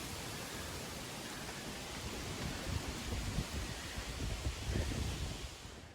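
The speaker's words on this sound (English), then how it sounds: "it's super windy today" Strong wind blows outdoors on a cold, breezy fall day, a steady broadband rush buffeting the microphone and swelling into louder gusts toward the end.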